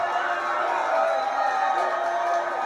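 A large crowd cheers and roars at a 2018 strongman competition, a dense sustained wall of voices heard from within the arena, with a commentator's voice faintly mixed in.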